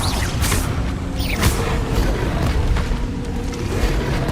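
Spell impacts in Hogwarts Legacy, a dense run of booming magical blasts and whooshes over a constant loud game backdrop, with brief sweeping swishes spread across the few seconds and no talk.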